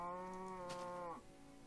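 A cow in the video game Minecraft gives a single clear, drawn-out moo that bends downward at the end, fairly quiet and alone.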